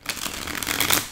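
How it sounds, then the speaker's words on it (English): Tarot cards are shuffled by hand in a brisk, continuous papery riffle, close and steady for just over a second, with no voices. "But I got to shuffle, right?"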